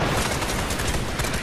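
Dense, continuous gunfire from the video game Fortnite, loud and sustained with rapid overlapping shots and no pauses, filling the whole moment without speech.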